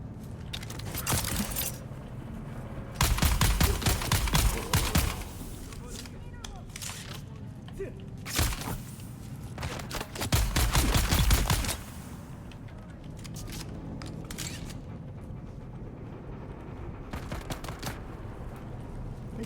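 Gunfire in the video game Dune Awakening, with several loud bursts of rapid shots separated by quieter stretches, under faint background game noise.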